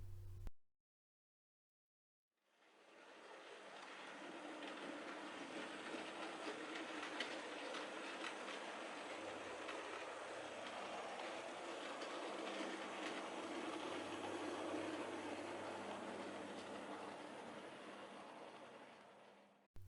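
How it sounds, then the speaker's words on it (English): A model train rumbles steadily along layout track with a faint rhythmic clatter, continuous and close, after a brief silent start; no voices. "the train is then able to depart and go off onto the rest of the layout"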